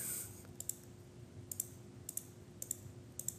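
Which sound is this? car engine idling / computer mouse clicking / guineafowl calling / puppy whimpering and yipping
computer mouse clicking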